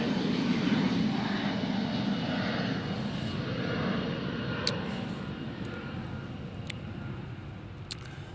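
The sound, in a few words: airplane flying overhead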